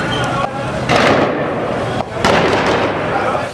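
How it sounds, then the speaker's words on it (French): Gunshots ring out in the distance at night in the city of Ngaoundéré, Cameroon, two sharp bursts of cracking reports with a loud background of street noise and voices. "Des coups de feu au loin"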